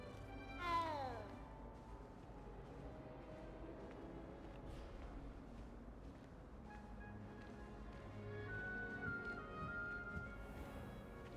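A cat in the Hogwarts Legacy video game lets out a single short meow while being petted, faint and followed by quiet game music and ambience.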